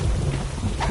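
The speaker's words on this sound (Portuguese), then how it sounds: "Muito bacana esse efeito de chuva." Rain and rumbling thunder play as a weather effect in the gladiator action game Story of a Gladiator, a dense low roll under steady rainfall hiss for a moment.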